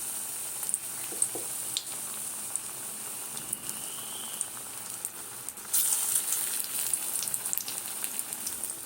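Batter-coated pointed gourd chops with stuffing frying in hot oil, a steady crackling sizzle with scattered pops that grows busier and louder partway through. No one talks over it.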